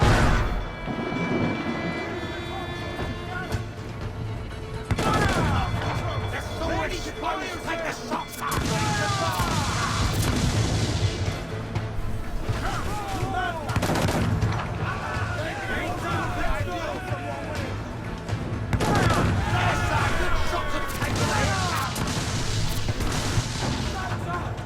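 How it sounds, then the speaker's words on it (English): Mortar shelling and cannon and gunfire in Assassin's Creed IV, repeated heavy booms and crashes spread through a continuous battle din, loud and close, with a voice talking over much of it. "And start shelling. Good 22 mortars"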